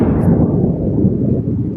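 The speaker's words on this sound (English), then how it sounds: "Because thunder striking that close to where you are will certainly get your attention." Close thunder strikes at night during a record-breaking New Jersey blizzard, a loud, deep, sustained rumble that rolls on steadily for the whole moment with no voices.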